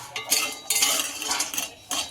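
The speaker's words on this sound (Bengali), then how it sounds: "এটাকে ভেজে নেওয়া হবে শুকনো খোলা একটু নেড়ে" Lentil dumplings (bori) are stirred in a dry pan with a utensil, making close, loud scraping and rattling strokes in quick repeated bursts.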